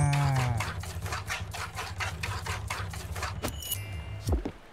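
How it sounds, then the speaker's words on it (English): Cows lowing in the farming game Spiritfarer: one long, deep moo at the start, followed by softer repeated rhythmic game sounds and a brief final low call, close and clear with no talk. "They're very big cows."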